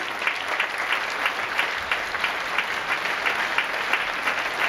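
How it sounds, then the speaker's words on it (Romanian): Sustained applause from an audience at a children's performance showcase, greeting the advanced group of performers; steady, dense clapping throughout at moderate distance, with no talk over it. "Aplauze susținute pentru grupa de"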